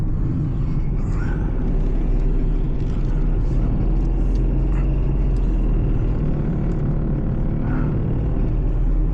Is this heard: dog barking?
no